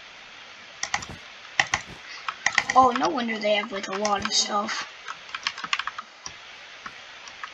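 Rapid clicking of keys on a new computer keyboard during a game, steady near taps with brief pauses, while a person talks over part of the typing.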